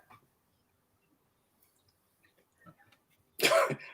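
A single short, sharp sneeze bursts out near the end after a few seconds of near silence with faint, scattered small noises.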